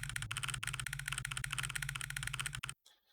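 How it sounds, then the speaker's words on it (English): Rapid, even clicking of a typewriter-style text effect in NodeCanvas game dialogue, a dense mechanical ticking that runs steadily for a few seconds over a low hum and then cuts off. "We get a nice typewriter effect"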